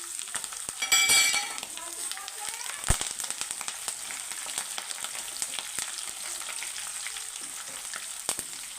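Close, crackling sizzle of tempering spices, curry leaves and dried red chillies hitting hot oil, with a loud burst of spitting near the start that settles into steady frying with scattered pops.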